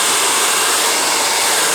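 A low-heat infrared hair dryer blows hair, a loud, steady whooshing roar that fills the whole stretch without pause.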